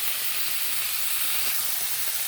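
Onions frying in a pan alongside beef steak give a continuous, even sizzling hiss throughout, moderately soft and steady with no talking.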